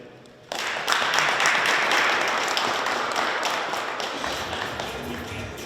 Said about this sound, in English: Can we have another round of applause for her, please?